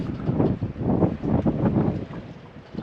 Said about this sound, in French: Il y a un petit peu de vent maintenant.